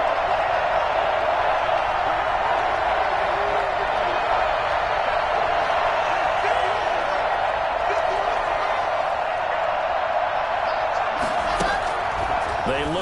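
Dense roar of a football stadium crowd building during a game ahead of a big third down, a steady broadband wash throughout with a few sharp claps or slaps near the end.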